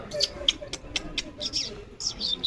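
Several short pigeon calls and chirps sound close by in quick succession, mixed with faint background noise and no talking.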